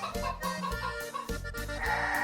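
Chickens on an Arizona ranch cluck in short, repeated bursts, close and fairly loud, with a rhythmic choppy pattern throughout.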